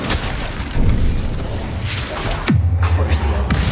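Incendio spell explosion in the Harry Potter game Hogwarts Legacy, a sharp booming burst with a sudden loud crack partway through, mixed with spell effects and speech.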